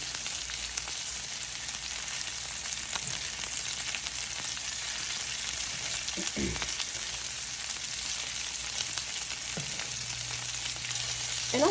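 Salmon fillet sizzles steadily in a pan, a constant close frying hiss with a few faint clinks as it is turned.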